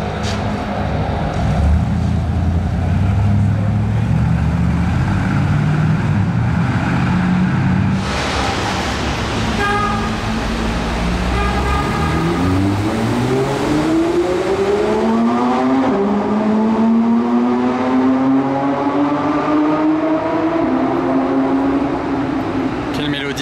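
A modified Mansory cabriolet accelerates hard nearby, its engine note climbing in rising sweeps, cutting briefly through a gear change, then climbing again, loud and continuous over a busy background with voices.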